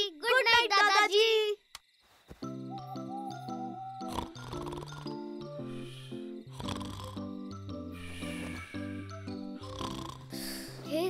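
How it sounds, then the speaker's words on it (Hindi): A cartoon grandfather snores in slow, repeated rumbling breaths, the drawn-out tones rising and falling under a soft, steady musical background, after a short stretch of a child-like voice at the start. "अरे कहां, दादाजी इतने खर्राटे जो मार रहे हैं।"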